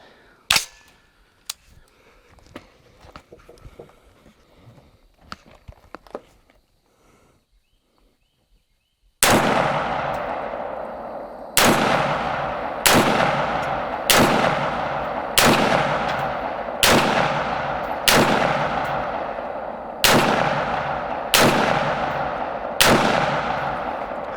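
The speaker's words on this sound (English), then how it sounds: "I missed a few shots there. Just pulled the trigger a little too quickly" Rifle shots at cans at dusk from a Diamondback 15: after quiet handling clicks, nine loud sharp reports ring out at a steady pace, each trailing a long echo, with no talk.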